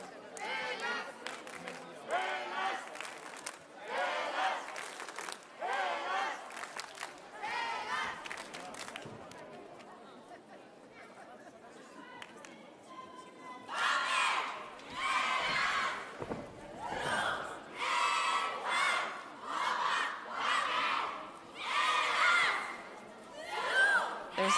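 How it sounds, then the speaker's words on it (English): Crowd noise at a youth all-girl cheerleading competition in Greece, with bursts of loud shouting and cheering that rise and fall in repeated waves, quieter in the middle and building strongly toward the end. "A high volume on this cheer, strong start"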